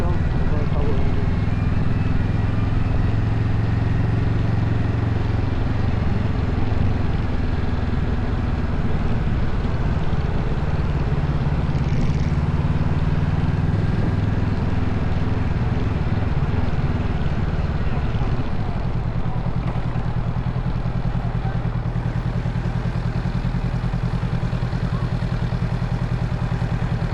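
A motorcycle rides through central London traffic, its engine droning steadily with heavy wind rush over the microphone throughout, and a voice occasionally heard beneath the noise.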